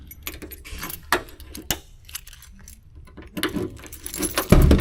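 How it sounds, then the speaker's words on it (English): Keys jangle and clink in short bursts, metal scraping against the trunk lock of a 1991 Cadillac Brougham d'Elegance, with a louder rattle near the end. "Let's see if I get this key on the first try."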